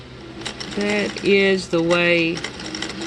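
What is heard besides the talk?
sewing machine stitching edging on a hoodie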